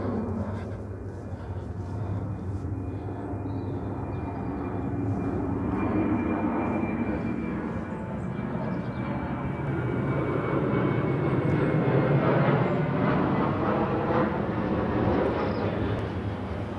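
An airplane flies over St Mary the Virgin Church in Broxted, Essex, its engine drone steady and fairly loud, swelling slightly as it passes overhead, with no voices over it.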